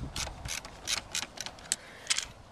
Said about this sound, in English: Retighten the clamp.